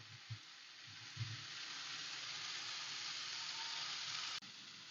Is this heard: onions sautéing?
yes